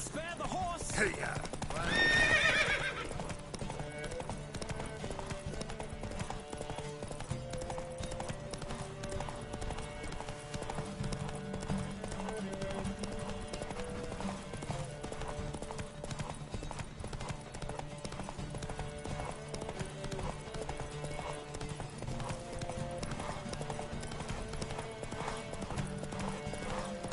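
A horse in a race in the video game The Witcher 3 neighs loudly once near the start, then its hooves gallop in a steady, fast rhythm over game music while a voice speaks.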